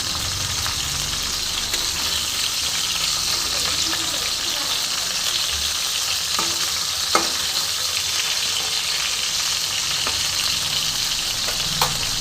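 Rohu fish heads sizzle and crackle steadily in hot oil, a continuous frying hiss with a few sharper pops and no talking.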